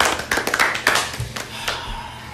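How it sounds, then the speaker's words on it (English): Podcast hosts give a short burst of clapping that thins into a few scattered claps and taps, close to the mic, with no talk heard. "everyone, round of applause for Breaking Bad"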